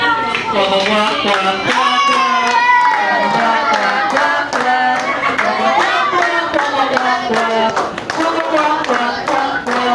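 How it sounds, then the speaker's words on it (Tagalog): Guests at a child's birthday party at Jollibee in Magalang clap along in rhythm while a father sings, the steady claps mixed under his loud singing and lively crowd voices. "Palakpak lang po habang kumakanta si Daddy"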